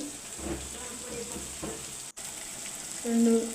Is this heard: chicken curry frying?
yes